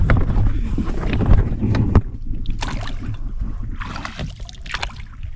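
A sailboat's engine runs under throttle after the hull struck a rock at low tide in Raja Ampat, Indonesia. A steady low rumble is mixed with wind buffeting and splashing water throughout.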